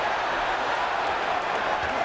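Broad, steady crowd roar from spectators at a boxing match as Owen Beck fights Monte Barrett, a continuous wash of cheering noise filling the arena for a couple of seconds with no distinct voices standing out.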